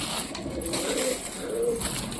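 Pigeons kept as pets coo softly in two short, low, throaty calls, fairly close, over a quiet background hum.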